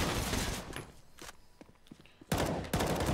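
Pistol gunfire in the video game Counter-Strike during a professional match, with bursts of rapid shots in dense clusters at the start and end, separated by quieter spells of scattered single shots and footsteps.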